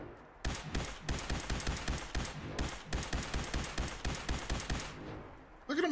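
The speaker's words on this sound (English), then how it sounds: "I'm shooting at him, aren't I?" Rapid automatic gunfire fills a shooter game on a very hard setting, with sustained bursts for about five seconds, a pause, then a fresh burst at the end, loud and close.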